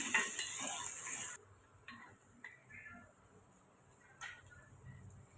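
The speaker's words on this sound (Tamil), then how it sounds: "சேர்த்து இதை அப்படியே வதக்கி விட்டுட்டு வரலாம்" Onions and spices sizzle and crackle in a hot pan while a spoon stirs, loud at first then quieter, with occasional scraping clinks against the pan.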